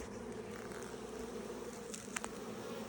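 Honey bees buzzing around an opened hive box, a dense continuous drone of many insects close by, with a few louder bees passing near.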